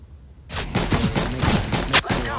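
AK rifle fire in a shooter game: after a quiet half second, a rapid string of loud, sharp shots in fast rhythm, close and dominant to the end.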